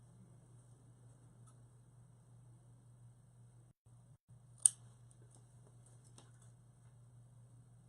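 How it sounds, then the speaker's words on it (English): A single crisp snip of scissors trimming a small point of fabric for a handmade card holder, heard alone over a faint steady low hum in a quiet room. "Just going to trim a little point like this"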